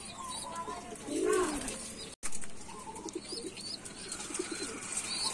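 Racing pigeons coo on arrival at a summer fun race loft in Pagbilao, Quezon, with soft chirps and a brief flutter of wings amid outdoor background noise and faint human sounds.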